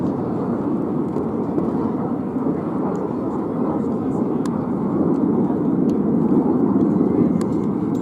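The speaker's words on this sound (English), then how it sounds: "So here comes Red 1 as he comes into land." RAF Red Arrows jet coming in to land at an air show, a loud continuous roar of jet engine noise that holds steady throughout.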